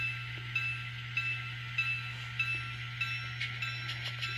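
An N scale Kato E8 model diesel locomotive with a TSU-KN1 sound decoder runs with a steady low hum and regular rhythmic chuffs or clicks about every half second, fairly quiet, no talking.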